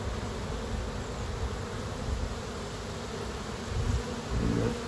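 Dense, steady buzzing of honey bees in an open beehive at a city farm, many insects droning close and continuously, with a slight swell in loudness near the end and no talking.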